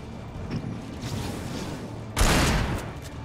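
Gunfire in the video game Alan Wake, set in a mining museum: a single loud, broad burst of shots near the end, standing out sharply from a steady low rumble of ambience, with no talk.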